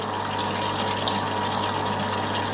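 A steady flow of water runs in through an opened valve on a chilling rig, a dense, even gushing rush with a low mechanical hum beneath it, close up and unbroken, no one talking.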